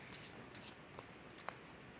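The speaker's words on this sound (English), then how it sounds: "All right, we'll shuffle some more." Tarot cards being shuffled by hand during a reading, giving soft, brief riffling and slapping bursts in quiet, close and faint, with no talking.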